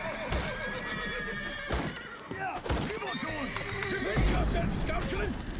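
Horses in The Witcher 3: Blood and Wine neigh and whinny over and over amid clopping hooves and dull thunks, with voices talking over the commotion.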